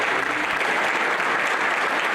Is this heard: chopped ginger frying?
no